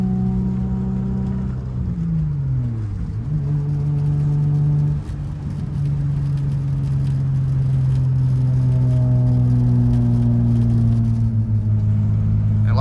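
A manual transmission car engine drones loudly and steadily from inside the cabin, its pitch sliding down mid-clip as gears are shifted, then settling and slowly rising again.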